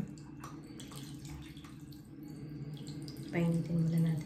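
Lukewarm tap water running from a faucet in a home sink, a soft steady stream that grows louder near the end, with someone speaking over it.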